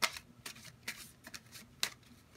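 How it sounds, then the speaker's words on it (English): A deck of playing cards being shuffled: a few quick riffling bursts close by, spaced irregularly across a couple of seconds, moderately quiet with no talking. "You can give it even a shuffle."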